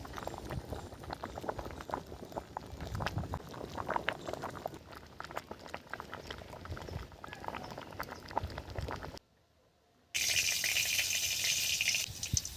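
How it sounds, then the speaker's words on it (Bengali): Rice bubbling at a steady boil in a pot during a morning cook of fena bhat, a dense simmering hiss that briefly cuts out, then returns brighter and louder. "ভাত হাফ ফুটে গেছে"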